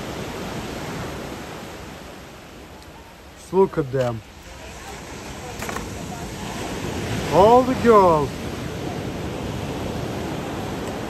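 Ocean surf in San Francisco, California, a steady broadband wash of waves and wind noise throughout, with someone talking briefly over it.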